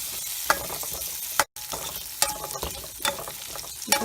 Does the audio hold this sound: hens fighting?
no